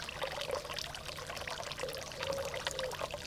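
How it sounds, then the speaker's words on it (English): Water trickles and pours steadily in a small garden wildlife pond in a Hampshire village garden, moved by a solar-powered pump; a continuous close splashing flow with no voices. "Solar panels are used to move the water."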